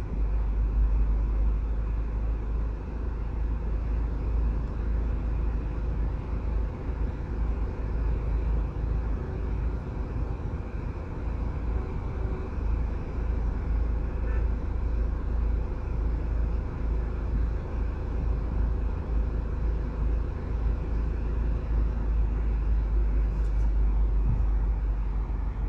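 A car drives along Burke Road through busy Spanish Town, Jamaica, with a steady low engine and road rumble throughout and faint traffic noise around it.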